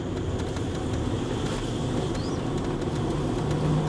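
A Land Rover Range Rover L322 driving on a road at over 50 km/h with the windows open, a steady rumble of road and wind noise filling the cabin at a constant level.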